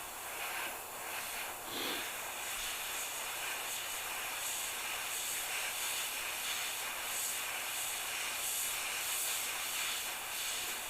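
Airbrush or spray paint hissing onto a model car's side vent and rear flare, a steady broad hiss running continuously at moderate level throughout, alone with no talk.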